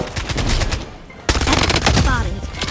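Sniper fire from an M700 rifle in a shooter video game, heard as a dense run of loud, rapid gunfire bursts with a sharp break midway. A voice talks faintly in the background.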